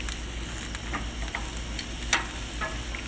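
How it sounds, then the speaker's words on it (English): Food sizzling on a grill at a late-night cookout, a steady crackling fry with scattered small pops, constant and close, no voices. "cooking on the grill"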